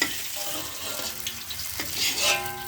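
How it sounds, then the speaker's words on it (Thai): Tofu pieces fry in oil for a stir-fried noodle dish, a close bright sizzle that swells and fades with light stirring and no voices. "เราจะทอด เต้าหู้ก็พอประมาณนี้นะครับ"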